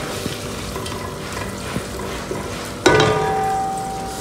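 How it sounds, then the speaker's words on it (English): Steady sizzling of chicken frying in a pan, with occasional stirring clinks and a louder burst of sizzle partway through. "So, no, we're frying it"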